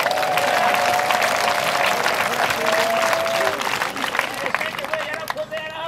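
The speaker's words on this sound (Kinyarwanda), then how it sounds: "Komera Imana amashyi." A congregation claps for God, a dense, loud ovation with crowd babble and a voice sounding above it, easing off toward the end.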